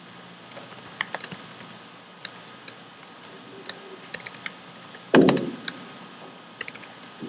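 Keys clatter on a computer keyboard in an irregular run of quick clicks with a few pauses, one louder thump midway, all fairly close and without any talk, while entering spaces in a Java programming exercise.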